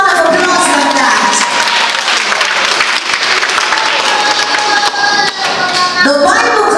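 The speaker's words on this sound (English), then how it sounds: "Give her a big round of applause like that." Wedding guests applauding and cheering for the bride at a Jamaican wedding, loud sustained crowd clapping close by, with voices and whoops mixed in throughout.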